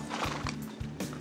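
Horses at a barbecue restaurant drive-thru in Alabama, hooves clip-clopping in a slow, even rhythm on pavement nearby, with a faint whinny.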